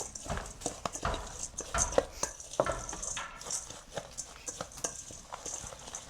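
Roasting coffee beans are stirred in a pot in Trinidad, giving repeated scraping and rattling strokes at an uneven pace, close and moderately loud, with faint background voices.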